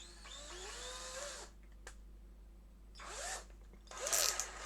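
A small drill whirs in short bursts while backing out a damaged screw from an electronic device, its pitch rising and falling with the load, close up over a steady low background hum.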